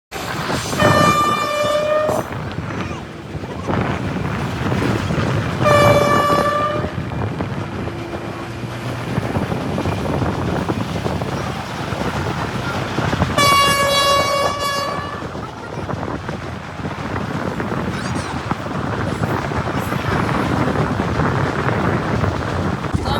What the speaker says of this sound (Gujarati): ટ્રેન પણ નીકળી તો ઈ જોવાઈ ગયું કેમ.